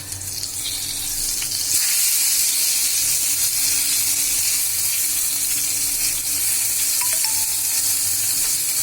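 Eggplant slices frying in oil in a pan for a spiced egg dish, a loud continuous sizzle with a brief clatter near the start and a faint tone late on, no talking.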